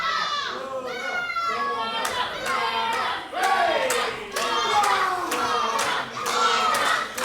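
A wrestling crowd at a live show in Selsdon, South Croydon claps and cheers, with rhythmic rounds of sharp hand claps over a steady roar of excited voices and children's shouts.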